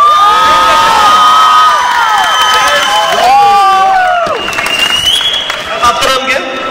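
A dance competition audience cheers, shouts and whoops loudly, voices rising in excited waves, with clapping mixed into the noisy crowd.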